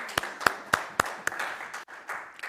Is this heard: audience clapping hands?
yes